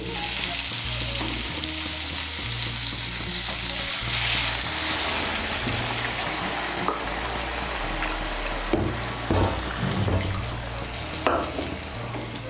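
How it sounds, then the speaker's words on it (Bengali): Rice sautéed with spices and pointed gourd as hot water goes in, a loud continuous sizzle and hiss close up with occasional stirring scrapes and clinks. "এর মধ্যে আমি 1 কাপ আর হাফ কাপ গরম জল দিচ্ছি।"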